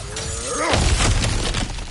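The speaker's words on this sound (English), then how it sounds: "back to smashing through things for fun and profit" Cracked ground smashed open in the video game God of War Ragnarök, a loud crunching shatter that breaks in sharply, then rubble rattles and crumbles for over a second, with a brief voice just before.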